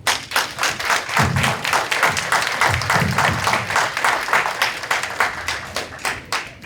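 An audience at a mayoral candidate forum bursts into loud, dense applause, many hands clapping quickly and steadily through the whole stretch, with a few heavier thumps near the start.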